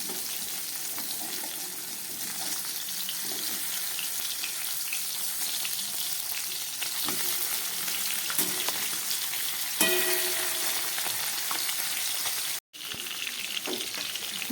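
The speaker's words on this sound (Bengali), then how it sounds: "গ্যাস কমিয়ে প্রায় 3 মিনিটের মতো আমি মাছগুলোকে ভাজা বসিয়েছি।" Bata fish fry in oil in a pan over low gas, giving a continuous, even sizzle and crackle throughout, broken once by a brief dropout near the end.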